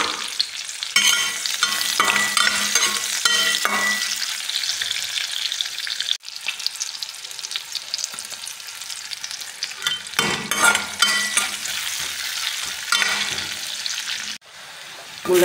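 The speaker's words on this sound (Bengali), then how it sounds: "তো পেটি দুটো দিয়ে দিলাম, মাছ ভেজে তুলে নেব" Two pieces of fish frying in a pan for a radish and coriander curry, a loud continuous sizzle with stirring scrapes throughout, no talking.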